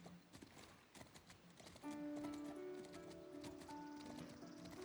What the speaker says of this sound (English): we run pretty fast on horses